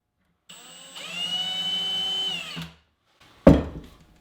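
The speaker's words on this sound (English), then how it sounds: "Not drilling in very far, just about" A power drill whines for about two seconds, drilling a shallow hole about 1/16 inch deep, spins down, then a sharp knock follows in a quiet room.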